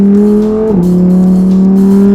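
A Tecnica race car's engine holds a loud, steady drone on a track lap, dropping in pitch briefly as it shifts gear, then carrying on at a constant tone, close and alone.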